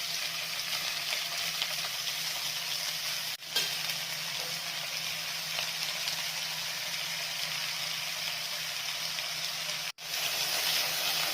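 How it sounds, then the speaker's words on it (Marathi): Fenugreek leaves fry with browned onion in a pan, making a continuous, close sizzle that stays steady throughout. The sizzle cuts out sharply twice for a moment, and no one speaks. "कांदा छान ब्राऊन झाला आहे त्याच्यामध्ये आपल्याला मेथीची भाजी टाकायची आहे"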